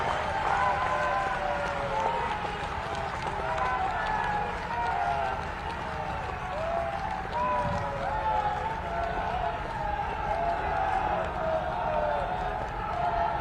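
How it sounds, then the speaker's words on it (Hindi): An audience applauds at a foundation-stone ceremony for a defence technology and BrahMos manufacturing centre, with dense, steady clapping from a large crowd and faint voices underneath. "तालियां बजाकर स्वागत किया जाना चाहिए"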